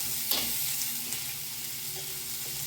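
A slit green chilli drops into a little hot oil and fries with a steady, close sizzle, and a few faint clinks and scrapes stand out against it.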